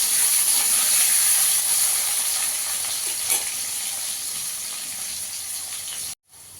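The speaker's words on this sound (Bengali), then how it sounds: "আলুটাকে একটু ভালো করে ভেজে নেব।" Cut potatoes fry in hot oil with a steady, fairly loud sizzling hiss that eases slightly over several seconds, then briefly cuts out near the end.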